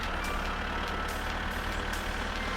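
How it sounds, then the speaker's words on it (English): A tractor in My Summer Car runs with a loud, steady engine drone and broad mechanical rumble, holding constant throughout with faint higher whines. "The tractor's loud relative to everything else in my summer car."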